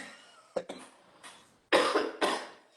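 A man gives several sharp coughs in short bursts, a few quick ones early and two heavier ones near the end, close by during an indoor live talk.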